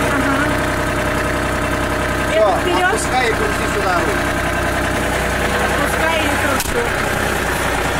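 A tractor engine idles steadily at close range throughout, a constant low rumble with brief voices speaking over it in the middle and toward the end.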